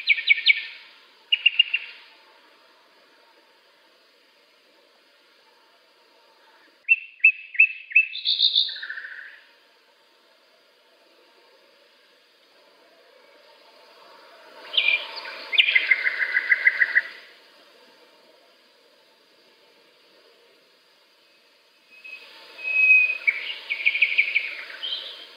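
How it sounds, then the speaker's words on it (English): Distant bird song in a field recording, heard as several separate bursts of high chirping and warbling phrases spread across long quiet gaps, faint and far off with no voices. "I couldn't be sure whether there was just one bird calling or several, but far away."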